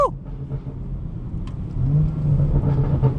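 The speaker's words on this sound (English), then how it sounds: "Oh, you guys hear those burbles back there" A car engine revs and rumbles up close while driving in the rain, with low exhaust burbles and pops as the throttle rises.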